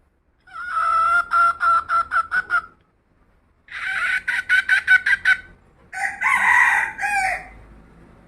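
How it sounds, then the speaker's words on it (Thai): A rooster crows loudly three times in succession, each call long and strident with brief pauses between, close by and with no other sounds. "ไก่ต่อขันรับเลยครับผม"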